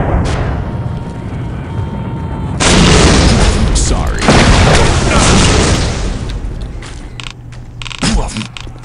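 A Postal 2 video game weapon fires with a heavy boom, loud and close, followed by a long noisy rumble that fades slowly, with a smaller burst near the end.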